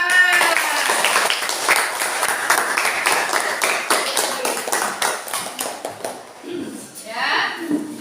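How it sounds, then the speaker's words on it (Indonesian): Classroom applause from students after a group presentation, a burst of brisk clapping that fades after a few seconds, followed by someone speaking amid light room noise. "Ya, silakan tepuk tangan."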